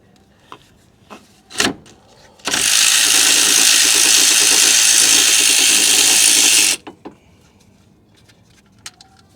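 Ratchet or power tool loosening the belt tensioner bolt on a Lexus LS430, a few faint clicks and a clack followed by a loud, steady four-second whirring burst, then small clicks afterward.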